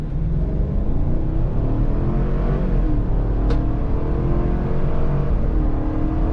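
A 2021 Chevrolet Tahoe High Country with the 6.2L engine accelerates hard from a standstill launch, its steady loud engine roar filling the cabin evenly for several seconds with no talk over it.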